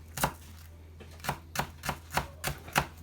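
A sharp kitchen knife chops food on a board while mussels in cream and curry are prepared, giving about seven crisp, close chops in an uneven rhythm.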